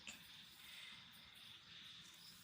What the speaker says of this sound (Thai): เสียงกบเสียงเขียด เสียงจักระจั่นเลไลก็ร้องกันละงมเลยนะคะ